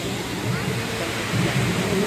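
The Amitabh Bachchan waterfall in Sikkim gives a constant rushing roar of falling water, steady and fairly close, with someone talking over it.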